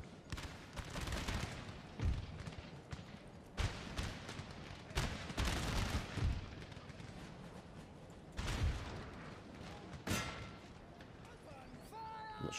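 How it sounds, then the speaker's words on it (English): Cannon batteries boom in a Napoleon: Total War battle, with repeated heavy blasts and crackling volleys at irregular intervals over a busy battlefield din, loud and close. "In the meantime, we'll continue the cannon fire here."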